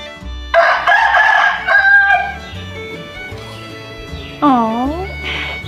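A chicken vocalizing with loud crowing calls and clucks, close and clear, including a rising-and-falling crow near the end, with a person talking in between.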